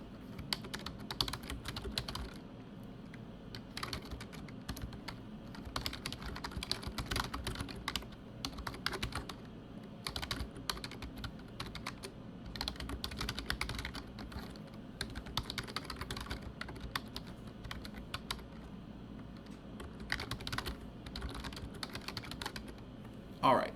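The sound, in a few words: typing on a computer keyboard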